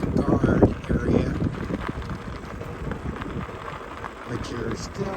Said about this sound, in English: I'm sorry about all the wind. It's a very windy day today